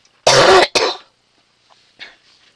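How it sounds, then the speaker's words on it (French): A dry morning cough, two loud close bursts in quick succession followed by a softer throat-clearing rasp, alone without talk. "je tousse un peu le matin"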